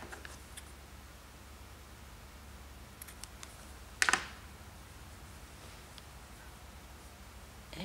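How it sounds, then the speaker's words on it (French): Scissors make a single quick snip through thread while a tassel for a crossbody bag strap is being finished, a brief close cut against an otherwise quiet room. "Je vais couper ce fil."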